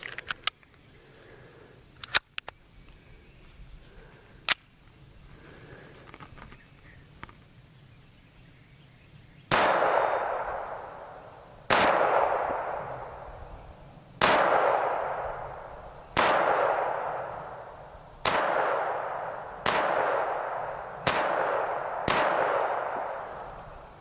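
A Walther P22 pistol fires Federal rounds outdoors: after several quiet metallic clicks and clinks, eight sharp, loud shots ring out about two seconds apart, each trailing off in a short echoing decay.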